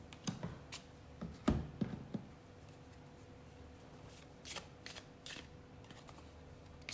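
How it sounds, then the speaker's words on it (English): Tarot cards are split into four piles and shuffled by hand at close range, giving quiet, irregular riffles and soft snaps in short bursts separated by near silence. "I'll be dividing it into 4, making it easy to shuffle."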